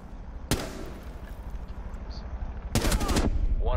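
Two sharp bursts of gunfire in Rainbow Six Siege, the first a single loud crack and the second a rapid automatic volley, set against a low steady game background.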